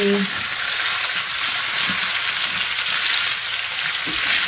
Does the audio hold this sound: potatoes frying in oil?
yes